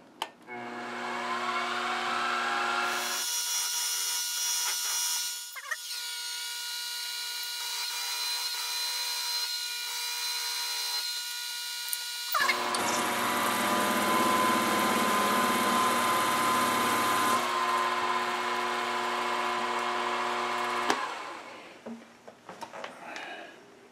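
A machine tool bores a deep counterbore for a quill stop in metal, a steady loud whirring hum that shifts pitch and tone as the cut changes over about twenty seconds, with no talking.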